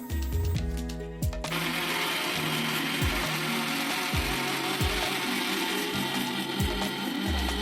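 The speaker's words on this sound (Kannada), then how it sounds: "ಇದನ್ನೆಲ್ಲ ಮಿಕ್ಸಿಗೆ ಹಾಕಿಬಿಟ್ಟು ಗ್ರೈಂಡ್ ಮಾಡಿ" A kitchen mixer grinder whirs loudly and steadily while grinding coconut with cinnamon, cloves, cardamom, pepper and coriander leaves into masala, with a pulse of rhythmic knocking at the start before the continuous drone.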